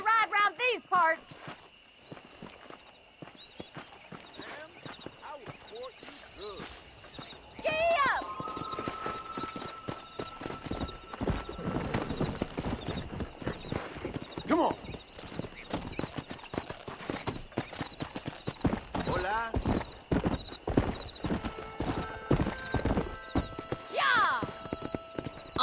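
Horses galloping in Red Dead Redemption, with rapid clip-clopping hooves pounding steadily for most of the ride, plus a brief whinny, while characters talk over the hoofbeats.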